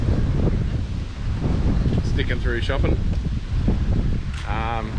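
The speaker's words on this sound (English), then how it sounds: "it's really, really windy" Strong wind buffets the microphone with a loud, continuous rumble while a person speaks, and a few high bird chirps come through.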